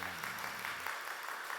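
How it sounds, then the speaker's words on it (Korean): A church congregation at a Friday prayer meeting gives a brief, quiet round of clapping for the praise team, soft and diffuse, with a trace of a voice at the start. "우리 임마누엘 찬양단 축복의 박수 해줍시다"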